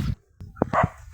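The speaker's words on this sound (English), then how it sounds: "Those are my dogs fighting." Two farm dogs, a mother and daughter, fighting outdoors, with a few close, loud snarling barks and yips in short bursts separated by brief pauses.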